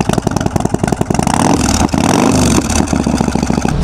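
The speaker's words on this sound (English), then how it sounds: "Harley riders like to rev the fuck out of their bikes" A Harley-Davidson motorcycle engine revs hard and close, its loud, lumpy V-twin throb rising and falling in repeated throttle blips with no talk over it.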